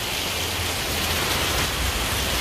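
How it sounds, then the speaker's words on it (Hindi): Heavy rain pours steadily in Ahmedabad, a dense continuous hiss with no breaks, fairly loud and with no voices. "इतनी तेज बारिश हो रही है"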